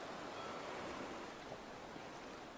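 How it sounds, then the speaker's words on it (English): Open ocean waves make a steady, soft broadband wash of surf that rolls on evenly throughout, with no distinct breaks or voices. "Listen to the ocean."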